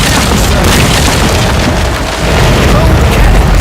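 A broadside of ship cannons roars in the naval game Commander: Conquest of the Americas, a dense, loud rumbling barrage of booms that briefly dips and then surges again.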